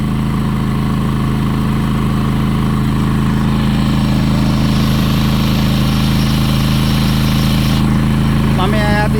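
A portable generator running in eco mode produces a loud, steady, low engine hum with constant vibration throughout. It is close-up and unbroken, with a faint voice barely audible beneath it.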